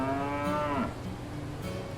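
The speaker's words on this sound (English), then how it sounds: "It's the friendly cow." A cow lets out a loud, close moo in a farmyard, one long drawn-out call that rises and then falls away, heard alone with no talking.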